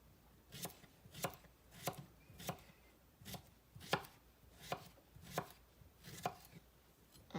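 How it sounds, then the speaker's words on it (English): A knife chops a cucumber into thin slices for a salad, about a dozen crisp, evenly spaced strokes on a cutting board, close and clear with no talking. "let's get this last cucumber cut up"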